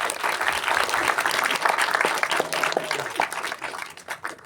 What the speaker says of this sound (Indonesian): Beri tepuk tangan dong buat.